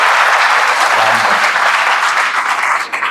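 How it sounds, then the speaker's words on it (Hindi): A crowd of students claps loudly and steadily for their teachers and faculty at a hospital and college gathering, dense continuous applause that fills the whole moment. "बच्चों इनके लिए खूब जोर से ताली बजाइए।"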